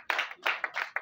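Wedding guests clap in a quick rhythmic pattern, five or six sharp, close bursts of hands in about a second.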